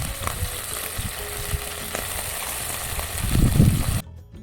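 Sausage, eggs and garlic fry in a pan cooked outdoors, a steady close sizzle with brief clicks and a louder burst of frying just before it cuts off.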